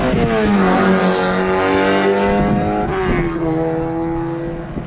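A small Grid Life Mazda Miata race car on a track at Eagles Canyon, its engine loud and close, revving steadily through the gears with a shift near the end as it pulls away.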